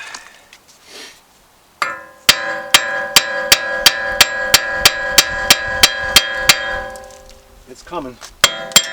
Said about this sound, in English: Maybe a little bit more persuasion. Where's my big hammer at?